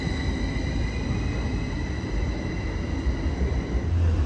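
Local tram pulling away from a busy Zurich stop, a steady rumble of wheels on rails with faint high tonal whines and a slight swell in low rumble toward the end.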